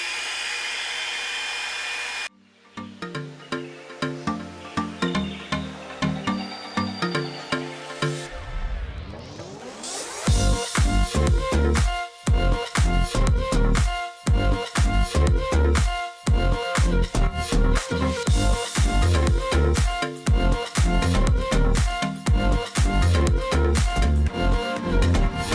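Revlon One Step dryer brush blowing on its low setting, a steady close whoosh broken by repeated bursts and shifts in tone as it moves through hair, with no talking.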